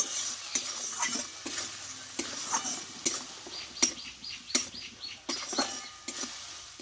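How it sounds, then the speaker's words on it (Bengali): A spice masala for a vegetarian spinach dish is stir-fried in a pan: a spoon scrapes and knocks in a quick, uneven rhythm over a soft sizzle, close and moderately quiet, with no one talking. "এই মশলাটা ভালোভাবে কষে নিব"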